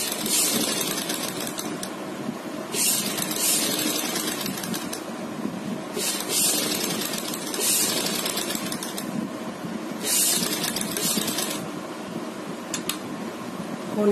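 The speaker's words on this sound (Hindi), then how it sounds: "बुकरम के बिल्कुल साइड सिलाई लगाएंगे।" A sewing machine stitches fabric alongside buckram for a neckline, running in a steady rapid whir with periodic bursts of faster clattering stitching, close and continuous without talk.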